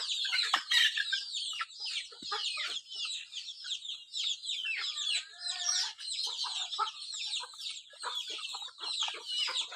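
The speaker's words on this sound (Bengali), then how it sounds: "এগুলো আমার মুরগিগুলো অনেক সুন্দর, অনেক কিউট। এই দেখুন খাবার খাচ্ছে।" Chickens cluck and chatter in a dense, overlapping chorus as they eat grain in a backyard flock, with sharp calls close by throughout and a rooster crow among them.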